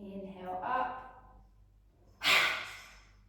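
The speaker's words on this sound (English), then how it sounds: "Exhaling with that audible exhale." A deliberate audible exhale during a yoga breathing exercise, a soft breathy release early on followed by a louder, forceful whoosh of air near the end, with no talking.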